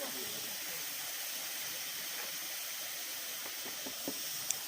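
Water rushing steadily at Chaulabhaja Waterfall in Odisha, a constant broadband hiss from a hillside stream, even and unbroken, with a couple of faint knocks near the end.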